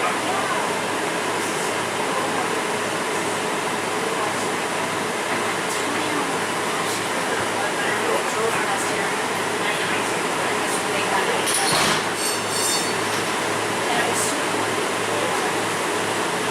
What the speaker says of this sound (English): a very loud HVAC system. Take a listen.